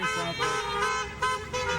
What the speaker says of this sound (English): Cars lining up around the block, honking to say happy birthday.